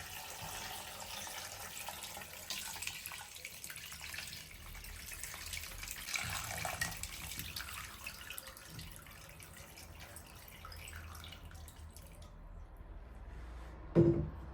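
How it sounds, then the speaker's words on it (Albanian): Water rushes steadily as it is poured into a cooking pot over pieces of village chicken for a traditional stew, a continuous splashing flow that ends abruptly near the close. "shtoj ujë derisa të mbulohet niveli i mishit"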